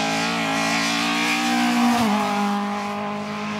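A BMW race car at the 2007 Rechberg hill climb screams past close by, its engine note rising as it approaches, then dropping sharply as it sweeps away, with no talking.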